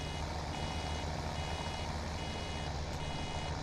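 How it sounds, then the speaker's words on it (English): A baler in the Farming Simulator 17 video game beeps to warn that a bale is nearly ready, a steady series of repeated electronic tones over a continuous low machine drone. "It's the beep to say your bale is nearly ready"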